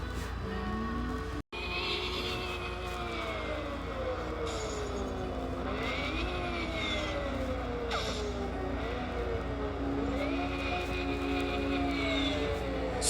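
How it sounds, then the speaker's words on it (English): An engine with an added turbocharged noise effect hums steadily, with rising and falling whistling tones sweeping up and down over a constant drone, broken by one brief dropout near the start. "it added a noise turbocharged effect"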